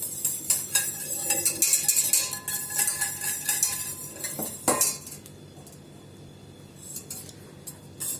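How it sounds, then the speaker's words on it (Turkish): A utensil clinks rapidly against the side of a metal pot in quick strokes, whisking an egg, loud at first, then thinning out to scattered taps. "Bir yumurtayı çırpacağız."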